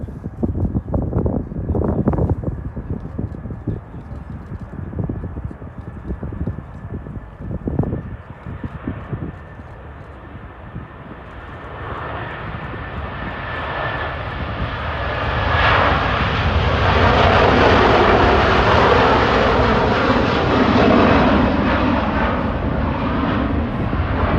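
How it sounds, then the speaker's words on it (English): An airliner makes its takeoff roll at Manchester Airport, the jet roar starting low amid gusty wind buffeting and building into a loud, sustained, broadening thrust that swells and holds through the end. "Takeoff roll."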